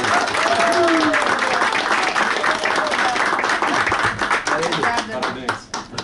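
A crowd breaks into loud, sustained applause, many hands clapping together, with voices talking and cheering underneath as it gradually thins out.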